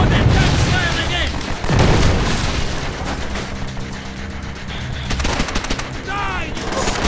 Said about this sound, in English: Before that gun fires again!